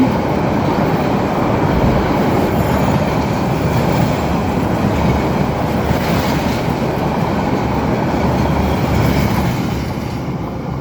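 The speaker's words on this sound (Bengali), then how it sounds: "বলতে বলতে চলে আসলো ট্রেন" A train rolls past in the Bangladeshi countryside, a loud, steady rumble and clatter of wagons filling the whole stretch before easing slightly at the end, with no talk.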